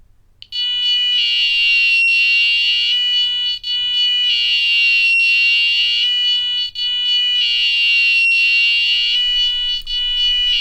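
A harsh electronic tone from a speaker pin driven by uploaded microcontroller code sounds loud and steady, repeating in three long bursts separated by brief dips, with no talking over it.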